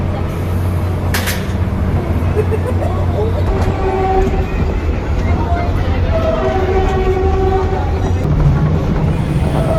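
A PNR commuter train rides through Metro Manila with a loud, continuous rumble and rattle of the carriage, faint squealing tones drifting in and out, and people talking amid the noise.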